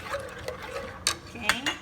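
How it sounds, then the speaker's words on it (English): A spoon stirs coconut milk in a pan over high heat, giving soft scraping swirls with a few sharper clinks of utensil against the pan, close and moderately quiet with no talking. "while I'm mixing the coconut so it's not gonna be watery"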